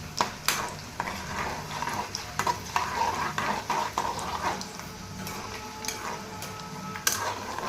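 Tempering spices fry in hot oil in a pan for lemon rice, a low steady crackle broken by sharp stirring scrapes and clinks of a spoon against the pan, no voices over it.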